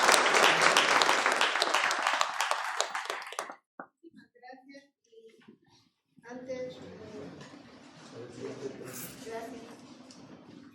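An audience applauds electoral councillor Vidal at a panel on Indigenous political participation: a loud burst of clapping for about three seconds, then a pause with scattered small sounds, followed by a voice speaking.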